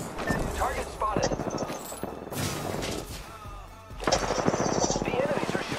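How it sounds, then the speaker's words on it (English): Gunfire from enemies in the PS4 game Apex Legends, rapid automatic bursts of shots in several volleys, loud and close, with in-game effects and a speaking voice mixed in. "The enemies are shooting at me."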